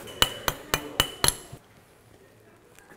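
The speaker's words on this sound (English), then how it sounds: "So the idea is to impact that peg" A surgical mallet impacts a bone peg into a toe joint during MTP fusion surgery with metatarsal head bone loss: five sharp, evenly spaced taps in quick succession, close and clear, then quiet.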